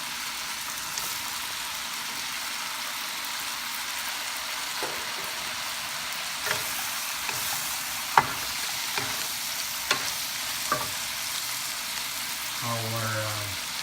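Snow peas are stir-fried for pansit bihon, a steady sizzling hiss broken by a few sharp scraping clicks of the utensil against the pan and a short clatter at the end.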